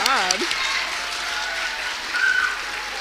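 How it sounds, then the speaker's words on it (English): An audience applauds at a school spring band concert, a steady patter of clapping that follows a brief voice at the start. "I want to give a round of applause to Divine on saxophone, Stephen on flute"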